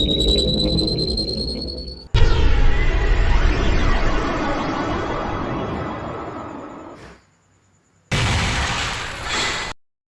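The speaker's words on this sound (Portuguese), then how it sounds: "Vamos ver como lida com meus canhões." Cannon fire and explosions rumble through a video game battle, a loud dense barrage of booms and bursts running for several seconds, cutting out, then a second burst of blasts follows after a brief silence.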